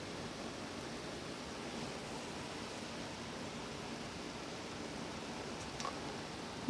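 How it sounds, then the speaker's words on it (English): Steady, dense hiss of heavy rain from a thunderstorm pours down without letup, even and close, with no voices. "The rain's picking up."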